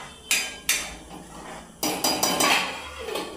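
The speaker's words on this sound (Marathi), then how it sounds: "थोडंसं भांडे जेव्हा काढतो ना आपण लावायला ते जाळीत ना, तेव्हा आवाज येतो." Metal cooking pot set down on a stove's wire grate in a home kitchen, giving a few sharp clanking knocks of metal on metal with short ringing decay, fairly close.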